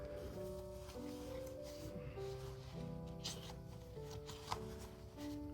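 Tarot-style fortune-telling cards are shuffled and dealt onto a surface, giving soft rubbing and papery slides with a few sharper snaps, steady and close throughout with faint background tones.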